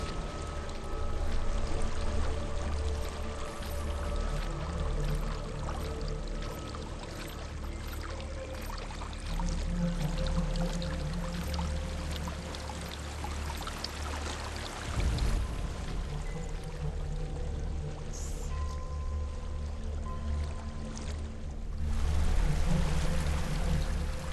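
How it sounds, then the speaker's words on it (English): Steady rushing water from a waterfall in the video game Hellblade: Senua's Sacrifice, a continuous broadband pour that swells slightly near the end, with no talk over it. "There's a waterfall."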